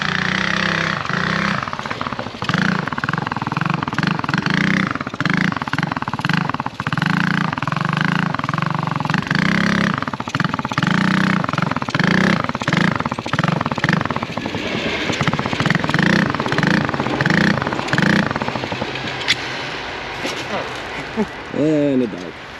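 A homemade trike and a pitbike rev repeatedly during wheelies, engines pulsing in rhythmic surges up and down, fairly close, with people talking over them.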